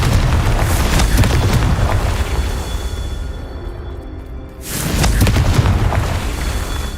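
Confringo explosion spell in the video game Hogwarts Legacy: heavy booming blasts with a rumbling fiery roar, a brief lull, then another loud burst.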